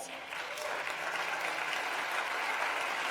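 Conference plenary audience claps continuously, a steady, fairly distant wash of applause throughout.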